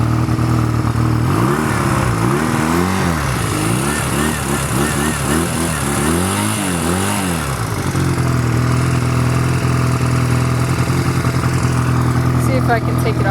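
A 1985 Honda Rebel CMX250C motorcycle engine runs close by with a steady, loud idle that rises and falls through wavering revs, while someone talks over it.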